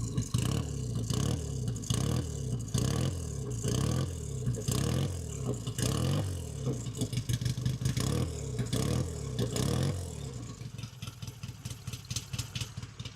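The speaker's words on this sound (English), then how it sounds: "Have a listen to the exhaust." A classic British 650 twin cafe racer motorcycle idles close up, its exhaust giving a steady, loud, lumpy throb with slight rhythmic pulsing and brief blips of revving, no voices over it.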